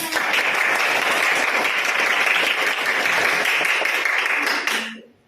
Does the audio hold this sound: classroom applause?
yes